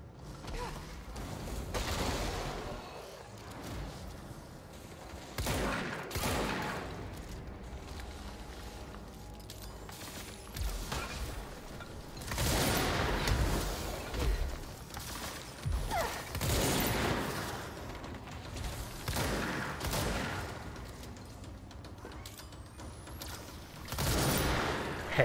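Gunfire in the action video game Control, heavy repeated bursts and booms arriving in clusters over a dense mechanical background, loud and close, with no speech.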